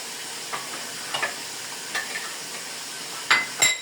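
Ginger-garlic paste frying for Bengali morog polao, a steady close sizzle in hot oil punctuated by a few scraping stirs of a spoon against the pan.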